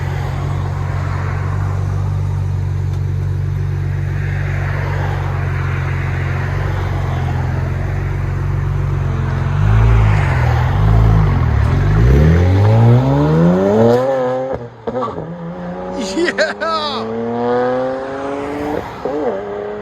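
Tuned 2007 BMW 335i 3.0L with a six-speed manual and rear muffler delete, a loud steady idle drone that climbs into rising, wavering revs and sharp high-pitched blips near the end, close and alone.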